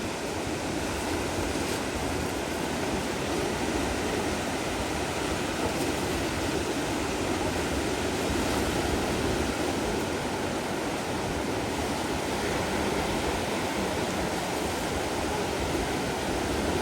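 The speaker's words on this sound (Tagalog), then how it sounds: "Nakatakot at ang lalaki ng alon." Large ocean waves heard from a small fishing boat out at sea, a continuous heavy roar of surf and rushing water with wind, steady and loud throughout without voices.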